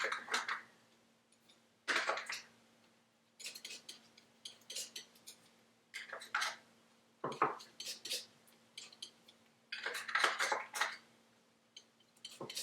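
A palette knife mixes acrylic paint on a palette, giving repeated scraping, tapping and clinking strokes in irregular bursts, close and fairly quiet, with short pauses between strokes.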